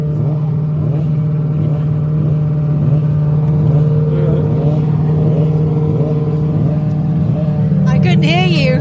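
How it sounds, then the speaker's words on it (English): A racing sidecar's engine fires up during practice at the Southern 100 road races on the Isle of Man, giving a loud, steady droning rumble that runs the whole time while people talk over it. "because of Greg's engine firing up right there"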